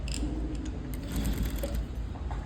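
A sewing machine runs a loose stitch along a plain blouse hem, a steady faint mechanical whirr with light ticking, alone and without talk.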